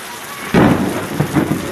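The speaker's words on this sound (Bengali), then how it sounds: "আলহামদুলিল্লাহ, অনেক বৃষ্টি হচ্ছে" Heavy rain pours steadily while thunder rumbles in two or three deep bursts, the first loud and sudden, the rest rolling more softly beneath the constant wash of the downpour.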